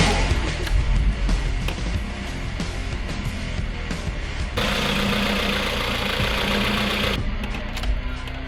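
A VAZ 2110 car engine idling with slightly unsteady revs, a steady close mechanical drone with a rougher, brighter stretch midway, heard alone without talk.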